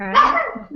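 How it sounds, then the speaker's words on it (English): Small dogs, a Yorkie poodle and a poodle mix, let out a sharp close bark over a brief word of speech, followed by a softer yip. "Sorry for my dogs barking."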